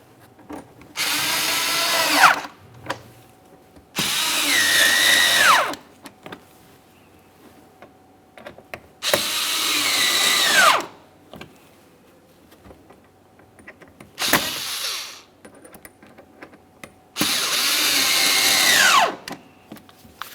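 Cordless power drill driving screws to snug down a replacement windshield washer reservoir on a 2017-2024 GMC Acadia, five separate whirring bursts of a couple of seconds each, close and loud, with pitch rising as each screw tightens and quiet gaps between.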